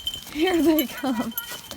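Goats being rounded up for browsing give two short, wavering, nasal bleats close by, the second briefer than the first, with faint background noise between them.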